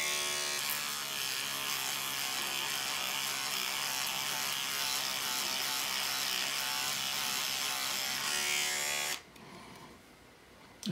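A homemade electric micro sander with fine sandpaper runs with a steady, loud buzzing whir for about nine seconds, then cuts off abruptly, leaving quieter background noise.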